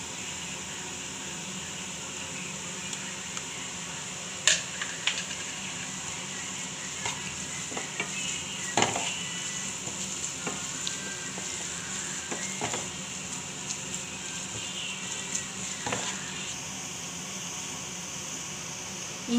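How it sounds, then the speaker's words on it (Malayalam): Ginger garlic paste sautéing in a pan for mushroom curry, a steady sizzle with occasional scraping stirs and clicks of a spoon, fairly close, no talking. "ഇഞ്ചി വെളുത്തുള്ളി പേസ്റ്റ് നന്നായിട്ട് വഴറ്റിയിട്ടുണ്ട്."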